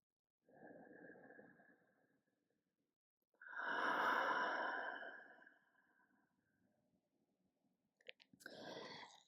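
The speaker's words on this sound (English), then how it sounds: "Cleansing breath." Slow, deep breaths during a gentle yoga flow: a soft inhale, then a long, fuller exhale that fades, followed by another breath, all close and quiet.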